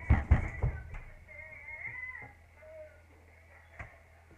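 A large cat meows in a few drawn-out, wavering calls after some loud bumps and knocks at the start, fading to quiet with a single thump near the end.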